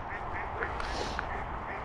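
Ducks at a snowy pond quack in a loose chattering cluster over a steady outdoor background, fairly faint and a little distant.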